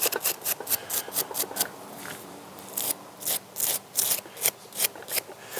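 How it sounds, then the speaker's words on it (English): Stiff brush sweeping small burrs off freshly carved bonsai wood, a quick series of short bristly scrubbing strokes, close and fairly loud, in rhythmic bursts with a brief pause midway. "And then you can take your brush and brush it off, and brush off all of those little burrs."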